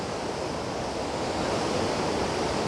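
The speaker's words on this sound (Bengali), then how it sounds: "কি তার স্রোত, কি তার চঞ্চলতা, কি তার শব্দ, প্রবল গ্রোশে ছুটে এসে মিলিত হচ্ছে ভাগীরথীর সাথে" The Alaknanda river rushes into the Bhagirathi at the Devaprayag confluence in Uttarakhand, a steady broadband roar of fast current, constant and loud with no pauses or voices.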